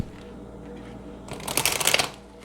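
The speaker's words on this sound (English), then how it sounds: "I'm just going to give these a couple shuffles" A deck of True Love reading cards is shuffled, a short crisp riffle of dense papery flutters building over about a second, close and fairly loud with no talking.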